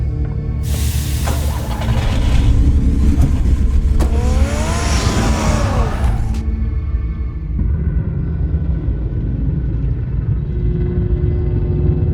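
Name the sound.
car engine revving in Batman: The Telltale Series video game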